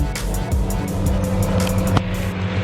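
A Lamborghini Centenario, an 800 hp supercar on its stock exhaust, roars nearby with a loud, rising and falling engine note and sharp revving bursts, a brief crackle near the end, and faint voices in the background.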